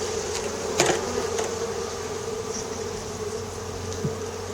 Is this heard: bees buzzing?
yes